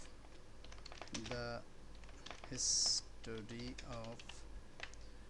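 Computer keyboard typing in short clicky bursts, close and light, runs under a voice talking over it.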